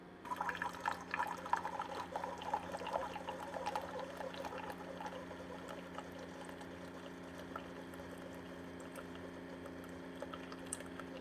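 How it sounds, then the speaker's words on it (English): A Keurig K-Select single-serve coffee maker brews an 8-ounce cup, its quiet pump humming steadily beneath a soft stream of liquid pouring and trickling into the cup, louder at first then settling into an even flow. "now it starts the brew process. Again, it's not really loud. You can hear sort of a pump running."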